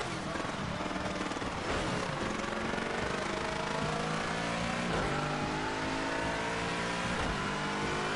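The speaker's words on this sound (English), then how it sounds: "the sound of the engine coming from my rear speakers doesn't sound healthy at all when I'm pulling out of corners" A race car engine in the Project CARS 2 endurance racing game revs repeatedly as it pulls out of corners, harsh and loud, climbing in pitch with dips between bursts and a rattly edge throughout.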